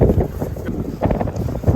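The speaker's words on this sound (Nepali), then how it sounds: "हावा चलिरहेको रहेछ, खतरा हो" Wind buffets the microphone in uneven gusts on a hilltop near Enoshima, Japan, by the sea, a loud low rumble that swells and fades.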